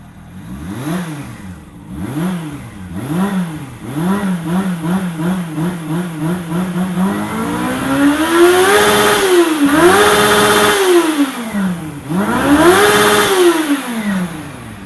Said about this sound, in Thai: ก็เดี๋ยวมาฟังเสียงเครื่องกันเลยดีกว่า โอ้เครื่องนิ่มจะงกดสตาร์ทเวฟ